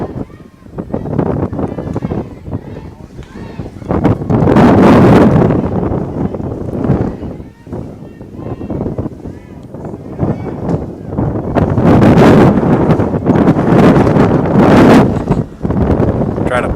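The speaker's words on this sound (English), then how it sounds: "Those gusts are getting increasingly more difficult to kind of withstand." Strong wind gusts buffeting the microphone at an outdoor softball game, loud roaring surges that swell and fade in waves, with a voice talking intermittently between them.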